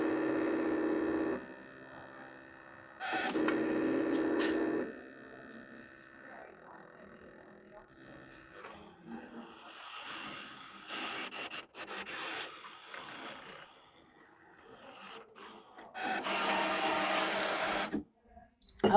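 Embroidery machine cutting out a fabric appliqué heart: bursts of loud, steady mechanical whirring separated by quieter stretches of softer buzzing and ticking, ending in a long loud run.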